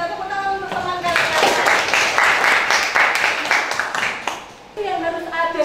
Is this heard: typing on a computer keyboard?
no